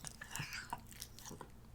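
A puppy chews and gnaws on a dirty ball, producing soft, irregular crunching and biting sounds close up and faint in a quiet room.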